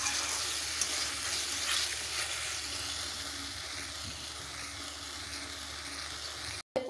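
Taro being sautéed in oil in a pan, a soft, steady sizzle with gentle hiss and light stirring, close and continuous before cutting off abruptly at the end.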